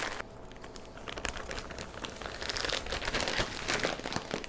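A zipper plastic bag is pressed and sealed around a cured ham leg, giving continuous crinkling and crumpling plastic rustles with scattered sharper crackles, close and fairly quiet.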